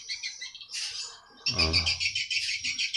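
Swiftlets chirp inside a swiftlet house, dense high twittering calls in quick bursts, close and continuous, with a low rumbling sound underneath partway through.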